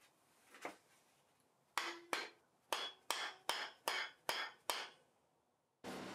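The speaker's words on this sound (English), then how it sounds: "Then I can get the shaft put in and the bearings and tap down into place." Bearings on an old bandsaw's wheel shaft are tapped down into place during a restoration, giving about eight sharp, close hammer taps in a steady rhythm, followed by one last hit after a short pause.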